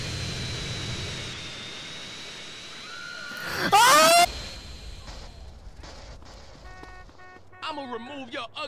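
Airplane engine drone in the video game GTA San Andreas, a steady jet-like whine running under game sounds with a loud burst midway, fading toward the end.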